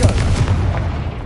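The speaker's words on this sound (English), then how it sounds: "Bombarda. Confringo." Bombarda and Confringo explosion spells going off in the Hogwarts Legacy video game, a loud deep booming blast with a rumbling low-end decay, close and without talk.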